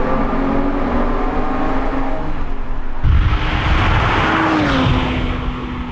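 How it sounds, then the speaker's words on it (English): A Porsche 911 GT3 Touring with a Cup engine and little sound deadening runs loud and close, its note holding steady before a sharp surge in revs midway, followed by a pitch drop. "And this Cup engine obviously is not the quietest of engines you can get in the 911."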